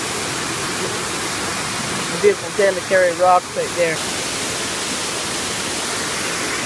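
Waterfall pouring over rocks gives a loud, steady rushing hiss throughout, with a few people briefly talking over it in the middle.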